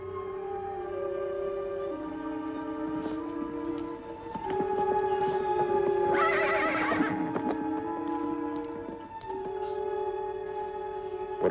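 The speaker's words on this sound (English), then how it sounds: "What about those horses, Ellen?" A horse whinnies loudly once, mid-length and shrill, set against sustained orchestral music with no talking.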